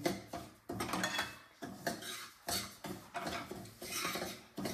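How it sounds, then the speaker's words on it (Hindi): Daliya is roasted in desi ghee in a pan, stirred with a utensil in a steady, repeating rhythm of scraping strokes about twice a second, close by but fairly quiet, with no voices. "ये मैं थोड़ा सा भून रही हूँ दलिए को देसी घी में"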